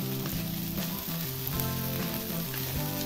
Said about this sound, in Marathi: आता मिरच्या चांगल्या भाजून घ्यायच्या